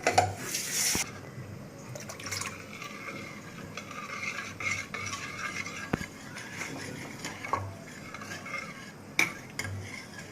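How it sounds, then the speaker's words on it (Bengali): Powdered milk is stirred into water with a utensil, giving quiet scraping and light clinks close by, with no talking. "এখন আমি গুঁড়া দুধটা পানি দিয়ে গুলিয়ে নিব, পরিমাণ মতো পানি দিয়ে।"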